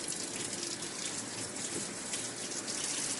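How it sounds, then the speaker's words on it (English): Water gushes steadily and loudly through the channels of an endoscope as it is rinsed during scope washing, a continuous close hiss of running water with no talk. "run water through your channels until it runs clear."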